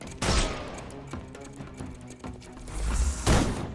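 Bursts of gunfire in the video game Sherlock Holmes Chapter One crackle in rapid volleys, with sharp shots at the start and a heavier burst near the end over a dense background.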